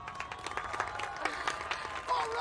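Brief burst of crowd applause and cheering from the film Spider-Man 3, dense rapid clapping at moderate level running throughout, with a voice rising near the end.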